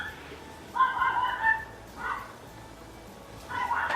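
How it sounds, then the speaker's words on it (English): A dog barks outside a room, a few muffled yaps in short bursts separated by pauses, faint and somewhat distant. "If you can still hear barking, I'm terribly sorry."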